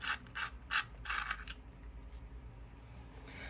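Pencil sharpener grinding a coloured pencil, several short bursts of close scraping and ratcheting in quick succession, then quieter handling noises.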